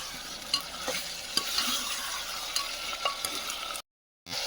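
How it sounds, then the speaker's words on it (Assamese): Mutton and fish stirred and frying in a pan, a soft continuous sizzle broken by a few scraping stir clicks, close and quiet, ending in a brief dead silence before the sizzle resumes. "এতিয়া লাৰি থাক"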